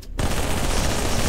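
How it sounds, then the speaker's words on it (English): Dense, continuous automatic gunfire in a Halo free-for-all match, loud and close, starting abruptly after a brief quiet moment and rattling on without pause. "Just spawned into the middle of Cappy's gunfire and died a second later."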